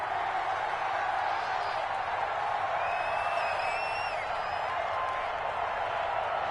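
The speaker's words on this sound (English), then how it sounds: "Well, this crowd does not like that call." An animated stadium crowd in a PS4 American football game roars steadily in disapproval of a penalty call, a dense continuous wash of massed voices with faint whistles rising through it.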